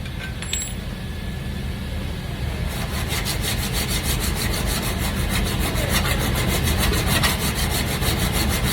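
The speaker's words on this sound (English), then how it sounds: "What I do is I have a dual action sander here, put a bit of 80 on it." A dual action sander fitted with 80 grit paper works steadily across a metal surface, giving a continuous close abrasive whir and rasp that grows slightly rougher and more textured partway through.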